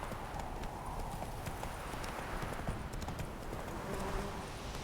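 Hooves of the horse Roach clip-clopping at a steady trot in The Witcher 3 on Nintendo Switch, a continuous rhythmic patter over a game ambience.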